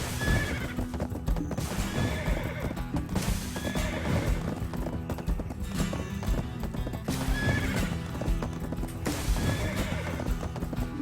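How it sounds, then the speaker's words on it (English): Rhythmic hoofbeats clip-clop steadily at a gallop, with a horse whinnying over a busy game soundtrack in Black Desert. "Shouldn't take long with this horse."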